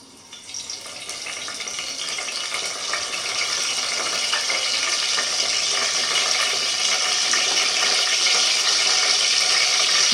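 Fresh curry leaves sizzle and crackle in hot oil, a loud hissing spatter that builds steadily and keeps going with no talk, part of a tempering for dal baati.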